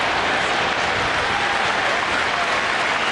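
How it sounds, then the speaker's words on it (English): Yankee Stadium baseball crowd applauding a White Sox player's hustle in 2009, a loud, continuous wash of clapping and crowd noise filling the whole stretch without letup. "Getting a nice round of applause"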